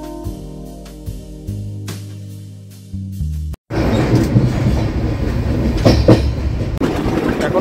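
A Tourist Express (train 15777, New Jalpaiguri to Alipurduar, run by Northeast Frontier Railway) rolls on rails. A short steady hum gives way after a brief gap to a loud, close rumble with rhythmic clickety-clack from the wheels.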